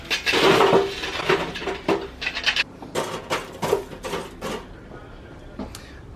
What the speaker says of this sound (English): now we're going to tip the coals onto the barbecue and get ready to start cooking